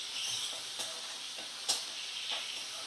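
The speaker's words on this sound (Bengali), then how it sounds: "হলুদ গুঁড়ো আর নুন দিয়ে একটু ভাজা করে নেব।" Bhola fish fries with turmeric powder and salt over a medium flame, a soft steady hiss broken by a few sharp crackles and spits.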